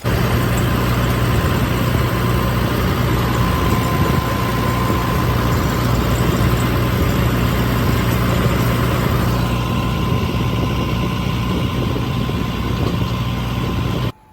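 A Swaraj 855 tractor engine runs steadily and loudly close by, a constant low rumbling drone with no pauses from start to finish.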